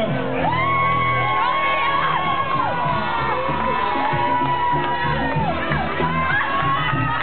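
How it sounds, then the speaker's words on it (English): Wedding guests cheer, whoop and shout continuously during a garter toss, a loud, dense crowd with children's high voices mixed in throughout. "Everybody, let's cheer on Leah."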